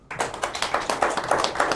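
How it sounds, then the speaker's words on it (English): A crowd at a press event in Zambia, where a political endorsement was just made, gives a brief round of applause: brisk, closely packed claps that start abruptly and stay moderately loud. "Another round of applause."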